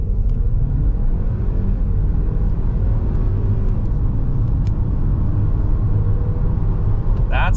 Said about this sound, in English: 0 to 60 in the 2025 Ford Escape.